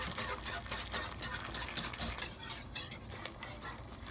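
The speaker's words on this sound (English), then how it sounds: "Gradually pouring it in while whisking it, or stirring with the whisk" A whisk stirs a mixture in a metal pot, a fast, continuous scraping and clinking against the sides, fairly quiet and close, with no talk.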